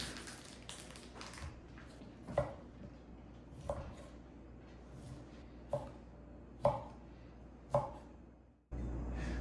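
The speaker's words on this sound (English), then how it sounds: "And I need to chop up some Canadian bacon." Knife chopping uncured Canadian bacon on a board, a series of faint, sharp, evenly spaced cuts with quieter scraping between them.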